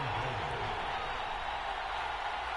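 A steady, dense roar from a stadium crowd in the Madden 23 football video game, filling a third-and-goal moment with continuous cheering at an even level, without any clear individual shouts.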